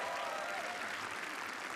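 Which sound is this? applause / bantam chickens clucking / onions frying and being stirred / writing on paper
applause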